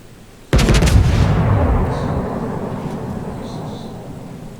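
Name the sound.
battleship main battery guns firing, World of Warships video game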